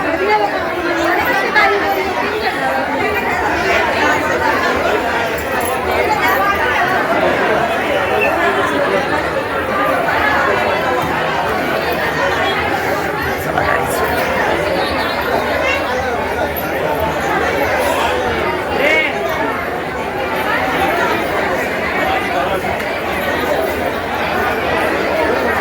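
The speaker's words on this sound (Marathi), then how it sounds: "खूप गर्दी आहे." A dense crowd chatters steadily at the hilltop Kelamba Devi temple, with many overlapping voices forming a continuous, fairly loud hubbub that stays even throughout.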